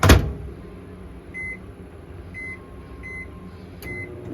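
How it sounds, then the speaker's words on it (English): A microwave oven runs inside a Winnebago EKKO camper van, giving a low steady hum after a thump at the start, with a few faint high electronic tones chirping at intervals. "So that's in the microwave"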